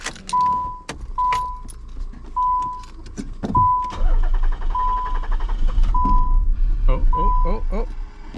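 A Nissan Gloria that had sat for months cranks and fires up. Repeated chime beeps and jangling keys come first, then a steady, loud engine rumble takes over from about the midpoint.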